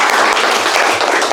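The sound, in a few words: audience applause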